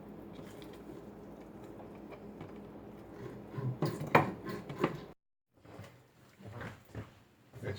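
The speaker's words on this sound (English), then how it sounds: "this is onion number 2 that we're gonna cut" A knife cuts through an onion on a kitchen board while making Cuban vaca frita, giving faint scattered taps that build into a quicker cluster of sharp chops, then break off briefly before a few softer cuts resume.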